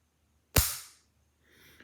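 A single sharp gunshot fired with a Geissele Super Dynamic 3-Gun trigger, a loud crack that decays over about half a second, followed by faint mechanical noise, with no talking.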